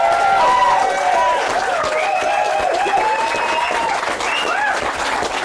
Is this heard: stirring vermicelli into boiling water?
no